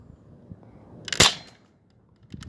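SupaSplat paintball gun fired outdoors at a silver car: one sharp, loud pop stands out over faint background noise, with a softer knock just after.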